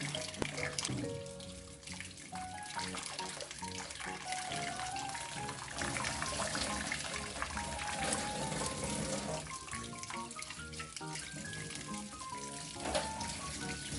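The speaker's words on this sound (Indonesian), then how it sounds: "Kita bilas pakai air mengalir sampai bersih." Steady running tap water splashes and trickles continuously, with faint handling sounds mixed in, as raw chicken is rinsed under the faucet.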